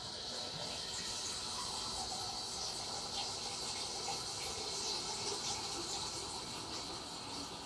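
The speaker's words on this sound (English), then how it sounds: "what we're gonna do now is pour some water into there" Water pours into a disposable diaper in a home chemistry experiment, a steady broadband gush and splash running unbroken and fairly close for the whole stretch, with no talking over it.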